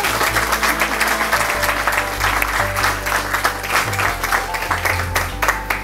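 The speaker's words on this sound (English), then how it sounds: "Can we have a round of applause for Bill?" Applause from a crowd at a hotel's grand opening event, a sustained, dense round of clapping filling the room at close range, with a faint voice murmuring underneath.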